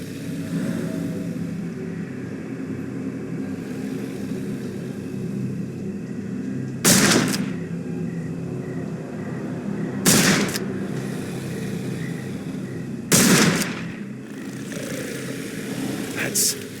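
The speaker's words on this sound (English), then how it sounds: "Holmes, hand me the rifle. I can shoot the ropes holding a few of those poor souls." Three sharp rifle shots crack out one by one at spaced intervals in a Sherlock Holmes swamp scene, each loud and distinct over a steady low ambient drone.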